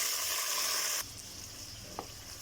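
Mutton sizzles loudly in a kadhai, a dense steady frying hiss that drops a little after a second. One brief stir or scrape follows and no voice is heard.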